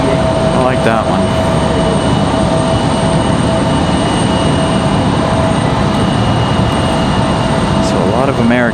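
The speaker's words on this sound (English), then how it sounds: "Let's try to catch our exec jet here" An executive jet at Raleigh-Durham airport roars loudly and steadily throughout, a dense continuous engine rumble with whining tones, close by.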